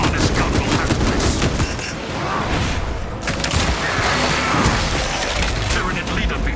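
A servo harness gun firing in Warhammer 40K: Space Marine, a techmarine fighting Tyranids: sustained crackling bursts of rapid gunfire with booming impacts, loud and continuous, with a voice speaking over it.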